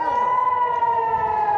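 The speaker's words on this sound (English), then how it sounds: "Sirens warning of incoming rockets launched from Gaza sounded in several Israeli cities." Air raid sirens in an Israeli city warn of incoming rockets launched from Gaza, a steady loud wailing tone holding for the whole stretch with no talk over it.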